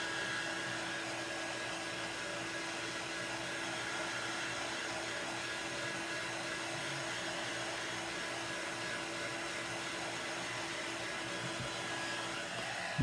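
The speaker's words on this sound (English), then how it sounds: "I'm just going to hit this with the tool for a moment. Get it really, really dry." A heat tool blows steadily over a silkscreen transfer, giving a constant, even whooshing hum of moderate loudness that runs unbroken from start to finish with no talking.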